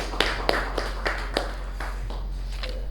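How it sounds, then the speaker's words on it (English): Evenly spaced single hand claps at a meeting, about one every third of a second, close and fairly quiet over a low steady hum. "Let's give a round of applause to Pavani for the job"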